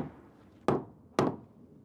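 Two solid knocks on a Hebel Power Floor panel of lightweight autoclaved aerated concrete, each a sharp dull thud with a short decay, spaced about half a second apart over a quiet room background.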